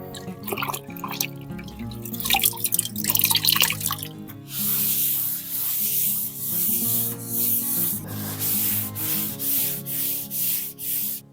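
A cloth or sponge wiped across a wall with water after cleaning with sugar soap. Short drips and rubbing come first, then a run of steady, rhythmic wiping strokes close by.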